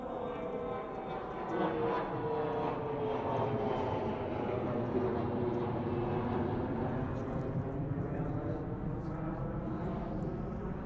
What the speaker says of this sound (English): every 2 minutes you might hear the plane going off.